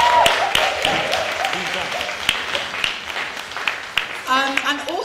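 Audience applause for a student union team at a leaders' conference, broadband clapping running throughout with voices talking and calling over it.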